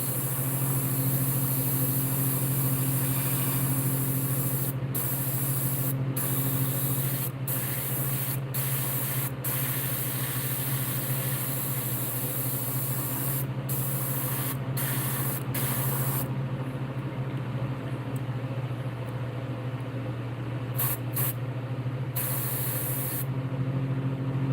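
A spray gun paints a fishing lure, hissing almost continuously at close range over a constant compressor drone, broken by a few brief pauses near the end.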